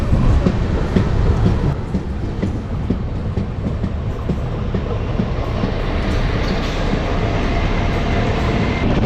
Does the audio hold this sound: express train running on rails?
yes